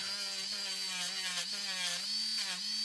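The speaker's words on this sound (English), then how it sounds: "I'm going to take it and just very finely clean up this edge" An electric nail file with a sanding attachment smooths the edge of a UV resin Christmas earring, giving a steady, close motor whine that holds an even pitch for about three seconds with no talking.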